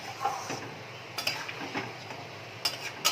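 Soybean curry with gravy stirred in a pan, a spoon scraping and clinking against the metal now and then over a soft bubbling and sizzling background, close up.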